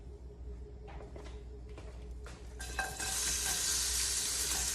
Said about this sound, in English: I've added 2 tablespoons of oil to my pot. I'm gonna add the onions in.